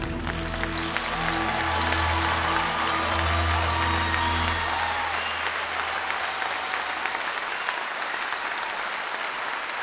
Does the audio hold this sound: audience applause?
yes